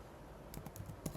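Quick bursts of computer keyboard keystrokes as code is typed, a handful of soft, close clicks in a short run over faint background hiss.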